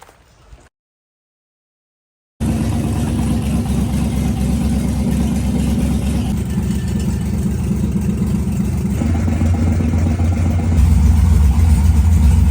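An LS-swapped Jeep Wrangler JK engine runs steadily after starting, a loud continuous idle that follows a brief bit of noise and a moment of silence, rising slightly in pitch near the end.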